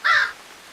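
A black crow in a cartoon story gives one loud, harsh caw that trails off quickly, standing alone with no talk.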